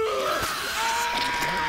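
A man screams in the sci-fi horror video game Aliens: Dark Descent, a strained cry over a dense rumbling game soundscape with overlapping tonal effects.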